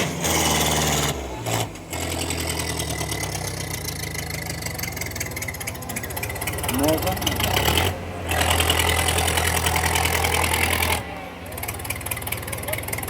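A Kubota tractor engine runs steadily at an outdoor village event, a loud, close, continuous mechanical drone with brief dips, while people shout nearby.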